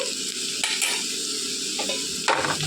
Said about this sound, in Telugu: వేసి బాగా కలిపేసుకోవాలి.